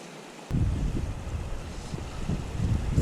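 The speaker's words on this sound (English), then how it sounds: "It's pretty windy." Wind gusts buffet the microphone on a lake while fishing from a small boat, a continuous low rumbling roar with uneven surges and faint water movement underneath.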